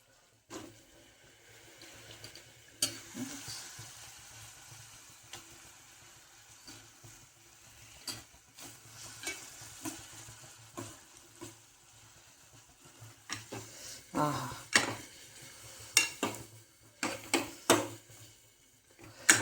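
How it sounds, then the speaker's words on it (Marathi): Drumstick pods sizzling and being stirred in hot oil in a home kitchen pan, with a steady soft fry and scattered scraping and clinking of a spoon against the pan, louder toward the end. "शेंगा तेल चांगल्या परतूयात."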